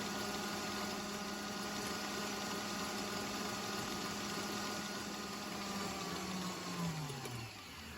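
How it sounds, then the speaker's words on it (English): Electric mixer whirring at high speed through eggs and sugar, a steady loud motor drone that holds for most of the stretch, then its pitch sags and winds down near the end. "Start mixing the eggs and the sugar on a high speed"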